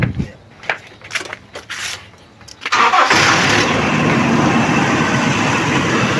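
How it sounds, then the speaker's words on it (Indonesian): A Toyota Kijang Kapsul car engine cranks briefly and catches, then settles into a loud, steady close-up idle after a few seconds of quieter workshop sounds. "Nyalain lagi mobilnya."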